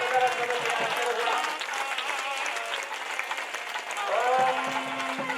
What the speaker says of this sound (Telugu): మాంగళ్య ధారణ అందరూ కూడా గట్టిగా చప్పట్లు కొట్టవలసింది